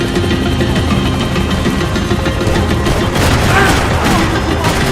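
Rifle gunfire in Max Payne 3 during a chase: dense, continuous shooting blended with engine rumble and explosive booms, loud and close throughout.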